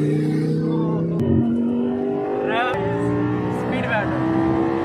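A Lamborghini Gallardo and a Mustang race in a speed battle, with loud engine drones that rise and shift through gear changes, swelling nearby, while people talk over the engines.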